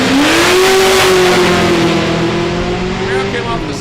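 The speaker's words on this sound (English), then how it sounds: "Camaro came off the starting line first, the Corvette will give chase" A white 2001 fourth-generation Camaro Super Sport and a Corvette launch off the drag strip starting line, loud engines howling with a rising then steady pitch, close to the microphone, over a brief few seconds.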